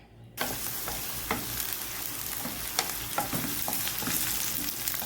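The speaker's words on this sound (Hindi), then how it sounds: "4 टेबल स्पून हमने ऑयल डाला है और प्याज को ब्राउन होने के लिए रख दिए" Onions browning in about four tablespoons of oil in a pan for keema, a loud continuous sizzle with scattered sharper pops and crackles, close up and without talk.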